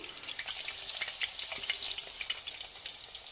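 Amla (Indian gooseberries) frying in oil for a pickle, a continuous bright crackling sizzle with dense spitting pops, close up and steady throughout, with no voices.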